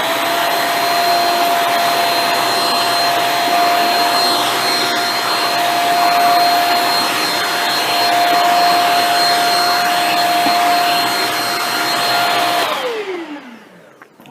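Shark Rocket handheld vacuum running with its motorized tool on carpet, a loud steady motor whine with a constant pitch that holds for about thirteen seconds, then drops and winds down as it shuts off.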